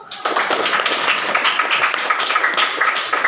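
An indoor classroom audience claps together for a student group after a presentation, a dense burst of steady, close applause that starts sharply and carries on evenly without speech.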